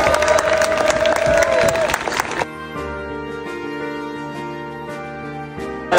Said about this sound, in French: un tonnerre d'applaudissements pour le premier d'être là